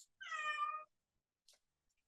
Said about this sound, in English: I don't know if you guys can hear that cat or not